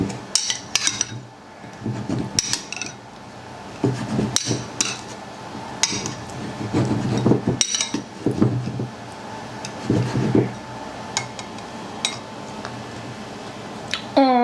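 Green bean salad tossed in a bowl, with repeated clinks and knocks of utensils against the dish coming in irregular bursts, close and fairly loud, over a steady background with some voice.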